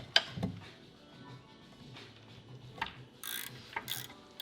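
A ratchet clicks as it loosens bolts on a rusty Subaru Impreza, giving short bursts of mechanical clicking followed by a few louder clunks, close up with little talk.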